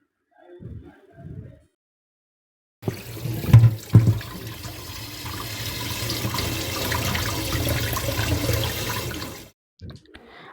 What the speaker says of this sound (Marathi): त्यानंतर आपण ती स्वच्छ पाण्याने धुवून घेणार आहोत